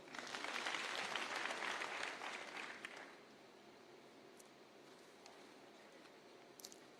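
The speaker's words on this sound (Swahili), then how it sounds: "Wapigie makofi wale." Crowd applause at a political rally in Kenya, loud and sustained clapping for about three seconds that then dies away into faint murmuring and scattered distant sounds.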